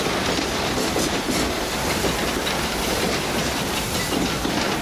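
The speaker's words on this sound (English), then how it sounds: "This old steam train needs water to keep going." A Walt Disney World Railroad steam train at Magic Kingdom rolls steadily along the rails, a dense continuous rumble and rushing hiss with faint rhythmic clatter, loud and close throughout.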